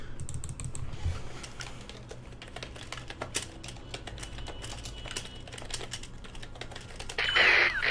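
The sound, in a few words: fast typing on a computer keyboard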